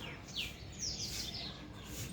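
Birds chirping in the morning air outdoors, several quick high calls and tweets scattered over faint background noise, moderately distant and soft.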